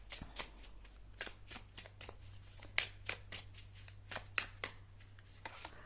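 Tarot cards are shuffled by hand in quick bursts of crisp riffling and slaps, irregular but steady, close and fairly quiet with no voices.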